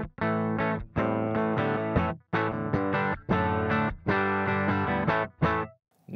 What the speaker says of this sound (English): So here's the sound of my guitar without the pedal on.